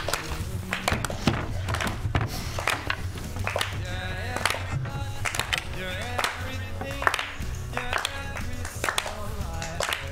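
Children clap along in a rhythmic, uneven pattern under loud background music during a live magic show on a morning TV broadcast, with occasional thumps mixed in.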